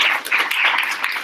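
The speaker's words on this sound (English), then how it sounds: "So can we get a round of applause?" Applause closing a procurement training session, a short dense burst of many hands clapping, moderately loud and steady for about a second, with no speech over it.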